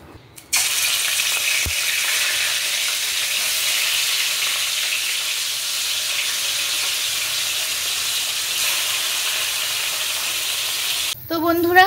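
Oil heating in a wok, a loud, continuous sizzle that starts abruptly and holds steady for about ten seconds before a brief burst of other noise at the end.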